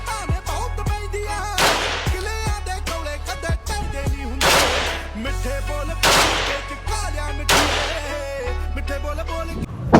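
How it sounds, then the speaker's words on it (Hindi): AK-47 bursts at a shooting range near the Cu Chi Tunnels in Vietnam: several sharp, loud gunshot reports with booming echoes, spaced a second or two apart over a steady low rumble. "शूटिंग रेंज जाऊंगा, AK-47 चलाऊंगा।"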